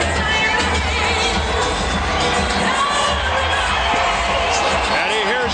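A packed boxing arena crowd roars at a Evander Holyfield versus John Ruiz fight, with loud sustained cheering, whoops and high shouts blending into a constant wall of noise, and voices heard within it.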